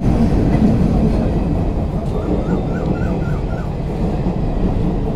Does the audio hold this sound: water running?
no